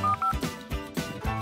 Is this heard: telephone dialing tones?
yes